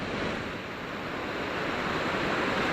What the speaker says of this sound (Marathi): एकदम नॅचरल आवाज नदीचा